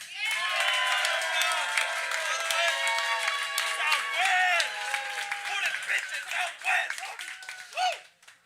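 An audience at a comedy showdown cheers, whoops and claps in a lively, sustained roar that thins toward the end into scattered shouts and a few claps.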